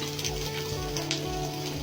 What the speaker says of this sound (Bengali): তেলটা দিয়ে পেঁয়াজটা একটু ভাজা ভাজা করবো।